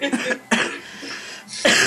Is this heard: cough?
yes